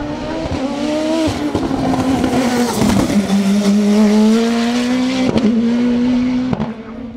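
A Revolt 3P0 race car with a 1.7 litre turbo engine climbs the Col Saint Pierre hill climb, its loud engine note rising and dropping through several gear changes with brief tyre noise, close and continuous.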